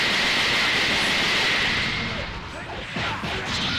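An explosion defense attack in Dragon Ball XenoVerse fires off as a loud, sustained crackling blast with whooshing energy that dips briefly and then surges again near the end.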